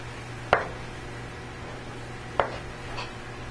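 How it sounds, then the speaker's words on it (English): Two sharp knife chops on a cutting board while slicing bacon during a cooking class prep, spaced about two seconds apart, with a faint third tap after, in a quiet room with a low hum. "With bacon, don't just push down, you got to slide through it, otherwise it doesn't cut."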